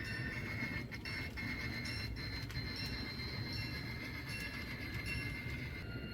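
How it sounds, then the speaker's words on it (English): Grain hopper railcars backed up to couple onto a freight train in an East St. Louis rail yard, giving a steady low rumble and faint high squeals and creaks throughout, distant and continuous, with no talk. "Okay, these hoppers are being brought back to attach to the train."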